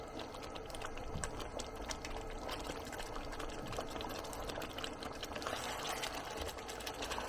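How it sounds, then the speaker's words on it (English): Chicken and peppers in sauce for Chicken Changezi bubble and sizzle on high heat, a dense, steady crackling simmer heard close and without talking. "Let it all bubble away nicely and amalgamate."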